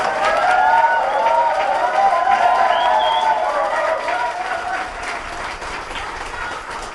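A crowd at a party leadership candidate's campaign rally speech in Chungcheong applauds steadily, a dense, continuous wash of clapping that stays loud and gradually eases off.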